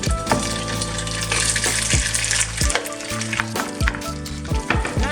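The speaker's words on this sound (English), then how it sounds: "Grease is nice and hot. I hit it with a little water." Water splashed into grease heated on medium-high for fried collard greens erupts into loud, crackling sizzle, with sharp popping bursts over a steady frying hiss throughout.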